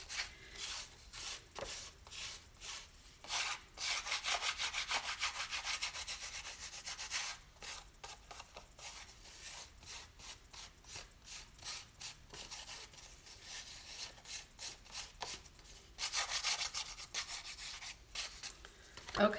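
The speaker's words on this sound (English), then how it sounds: "you can just keep rubbing until this gets all off" Excess gilding leaf is rubbed off a floral fine art piece in repeated short, brisk strokes, a close, dry scratchy brushing with an uneven rhythm and brief pauses between bursts.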